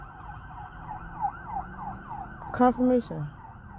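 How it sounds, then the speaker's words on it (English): An emergency vehicle's siren passes nearby, a repeating wail that cycles up and down at moderate volume, while a person speaks briefly over it. "And you hear them sirens"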